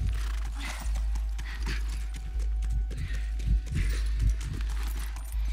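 A horse in The Last of Us trots on, its hoof clip-clops thudding in an uneven rhythm over a low steady rumble of game ambience.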